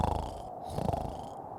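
A single low, rumbling snore imitated by a voice in a bedtime story about a sleepy bear, a close, buzzy purr-like rattle lasting just over a second.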